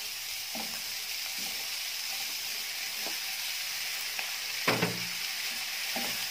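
Meat sautés with caramelized onions in a pan, giving a steady, quiet sizzle broken by several scraping stirs, one louder clatter near the end, and no talking.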